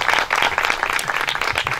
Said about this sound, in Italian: Sì, fatelo un applauso.